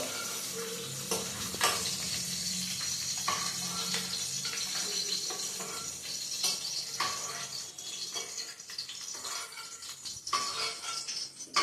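Ingredients fry and sizzle in a pan while being made into mint chutney, a close steady crackle with repeated stirring and scraping strokes throughout, no voices.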